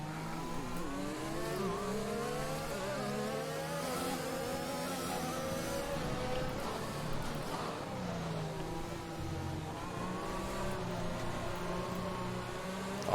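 Formula 1 race cars in the F1 2021 video game, several engines droning and revving together at a steady level with rising and falling pitch as they race, faint commentary underneath.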